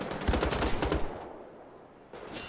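Rapid automatic gunfire from the shooter game Wolfenstein: The Old Blood rattles in a fast burst for about a second, then drops to a quiet lull before picking up again.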